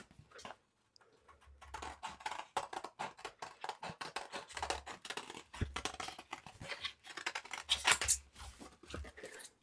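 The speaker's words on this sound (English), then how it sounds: "let's cut just the bottom off of this gorilla for right now." Scissors cutting through cardstock, a close series of quiet crisp snips and rustles in an irregular rhythm.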